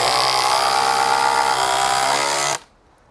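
DeWALT DCF870 hydraulic impact driver on speed setting 2 driving a screw: a loud, steady buzzing whir that runs continuously for about two and a half seconds, then cuts off abruptly.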